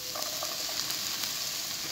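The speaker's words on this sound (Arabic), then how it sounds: "نحط شويه تاع الزيت في المقله ديالي وندير البصل، قطعته غير مكعبات البصل" Diced green onions frying in a little oil in a pan, giving a steady, close hiss and crackle with faint spatters that runs without a break and with no voices.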